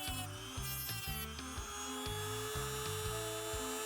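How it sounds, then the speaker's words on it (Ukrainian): A rotary engraver fitted with a grinding attachment buzzes steadily against the contacts of Li-ion 18650 battery cells, its high whine pulsing in short repeated passes, close and loud, with no talk. "Для цього я використав гравер з відповідною насадкою."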